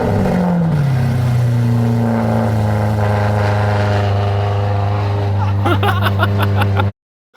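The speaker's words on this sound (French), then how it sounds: "Démarrage à froid?" A Bugatti Chiron Pur Sport, an accident-damaged example, fires up from cold, its engine settling into a loud, steady, deep idle that holds close and continuous before cutting off abruptly.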